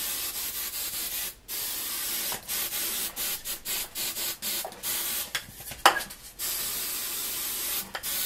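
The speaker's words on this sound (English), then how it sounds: "now that I've sprayed the ever living crap out of my wig" Hairspray hissing from an aerosol can onto a wig, a series of long and short bursts separated by brief pauses, fairly close and steady.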